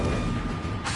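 Incendio fire spell going off in Hogwarts Legacy, heard as a dense, roaring rush of flame with a low rumble that stays steady and fairly loud for about a second.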